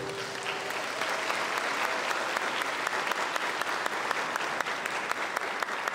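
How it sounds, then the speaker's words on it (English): Applause at an induction ceremony for newly qualified physician assistants in Ghana, a full room clapping steadily and loudly throughout with no voices over it. "Can you give yourself bigger applause?"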